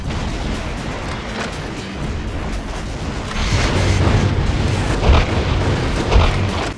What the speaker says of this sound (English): the recoilless rifle is actually a lot faster than my rockets were